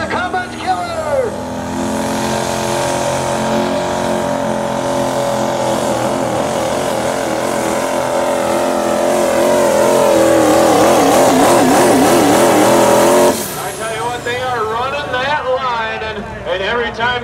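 Duramax diesel pickup engine building boost at a truck pull in Hillsboro, Wisconsin, a loud sustained roar that climbs steadily before cutting off near the end, with an announcer talking over it.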